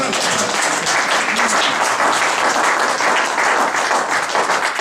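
A church congregation applauds in sustained, dense clapping, loud and steady from start to finish with no pauses.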